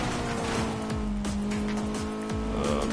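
Racing video game car engine revving steadily with repeated gear-shift drops and squealing tires, loud and continuous over background race music, with no talking.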